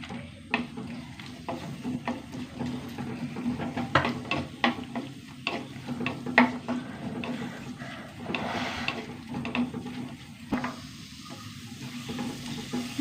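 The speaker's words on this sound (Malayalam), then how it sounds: "ഒന്ന് വഴണ്ട് വരട്ടെട്ടാ ഉള്ളി വഴണ്ടു കേട്ടോ" A large onion sautéing in a pan, giving a steady close sizzle with scattered clicks and stirring scrapes throughout.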